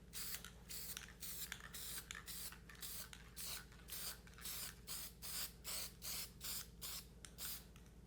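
Scissors snip out a paper template traced for a keris-style dagger, about twenty short crisp cuts in a steady rhythm, close and fairly quiet over a constant low hum.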